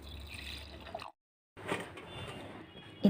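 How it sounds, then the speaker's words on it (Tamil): Soaking water from soaked rice pours into a mixer grinder jar in a faint, gurgling stream, stops briefly, then pours again with a soft trickle. "இந்த ஊற வச்ச தண்ணியை கொஞ்சம் ஊற்றிக்கலாம்."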